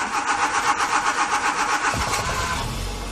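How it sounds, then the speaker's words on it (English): Car engine with about 76,858 miles being started for a pre-purchase check, a rhythmic cranking pulse through most of the clip that catches near the end and settles toward a low idle, close and clear with no talk. "Now you want to start the engine up."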